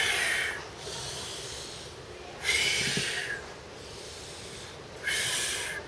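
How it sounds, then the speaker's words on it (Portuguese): Loud, close breaths during a beginner-to-advanced abdominal exercise on a ball, three long hissing exhales spaced a couple of seconds apart with quieter breathing between, no speech over them. "A respiração, que é importante"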